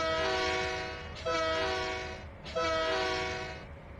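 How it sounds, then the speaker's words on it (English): Train in Trainz 2019 pulling freight cars off an inbound yard track, a loud sustained multi-tone horn sounding in two long blasts with a brief gap, over a low rumbling rail background. "right now we're watching Donald drag those cars off of the inbound track"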